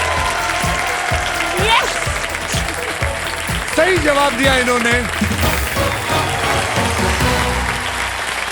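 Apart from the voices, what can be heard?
audience applause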